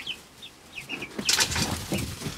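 Backyard chickens, golden laced Wyandottes, white leghorns, Americanas, and a black one, cluck in short high calls near a hand carved wooden roost, then break into fluttering wing flaps and louder squawks.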